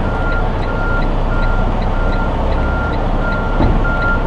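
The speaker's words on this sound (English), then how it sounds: "So you release the tractor brakes again, and you put it on reverse" Truck tractor backing slowly under a trailer at a driving school, with a steady series of evenly spaced backup beeps over a continuous loud diesel rumble.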